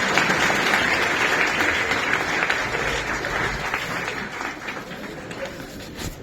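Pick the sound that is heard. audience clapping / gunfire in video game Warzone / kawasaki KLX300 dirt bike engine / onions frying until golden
audience clapping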